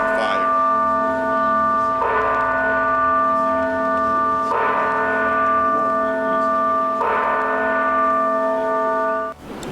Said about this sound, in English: The bells were incredibly loud.